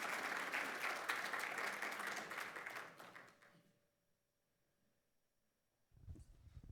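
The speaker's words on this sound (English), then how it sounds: "Give her a round of applause, please." Applause from an audience at a healthcare innovation summit, a dense burst of clapping that fades out to near silence after about three seconds, followed by faint low noise near the end.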